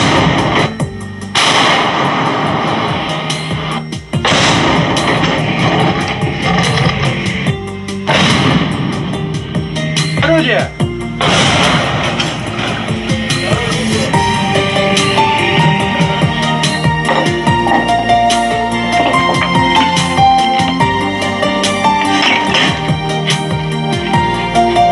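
Artillery guns fire in a rapid series of loud booms and sharp blasts with ringing echoes, continuing through the whole stretch, while shouted commands come faintly between shots.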